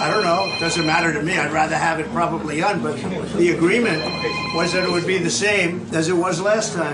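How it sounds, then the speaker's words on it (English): A telephone rings in the background, repeated trilling rings running beneath close, continuous talk from a person. "sorry for the ringing phone in that one"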